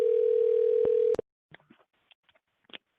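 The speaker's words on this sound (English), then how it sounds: "All right, I'll call you right now." A steady electronic ringback tone from a computer call sounds for about a second, then cuts off, leaving only faint clicks and small noises.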